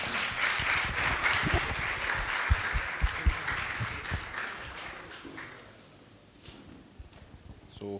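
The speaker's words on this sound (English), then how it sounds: "Please give a round of applause for the panelists" Audience applause for the panelists at a media festival, loud clapping from a crowd that gradually thins and fades to scattered claps near the end, with faint talk underneath.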